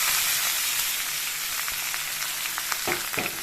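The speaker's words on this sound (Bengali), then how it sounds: "প্রথমে দিয়ে দেবো তেলে আমি পেঁয়াজ" Chopped onion frying in hot oil for a Bengali chicken curry, a loud continuous sizzle with a few scraping stirs toward the end, no talking.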